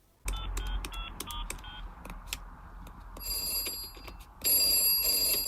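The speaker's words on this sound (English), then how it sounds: "I'll phone church now." A telephone rings in a Peppa Pig parody, with repeated short bursts of a ringing bell tone followed by a louder, brighter electronic ring near the end, alone without talk.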